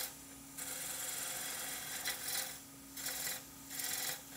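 Gouge on a wood lathe cutting a broad cove into a three-legged stool leg, giving a steady hum with repeated rasping scrapes that swell in bursts as the tool sweeps across the spinning wood, close up and without talk.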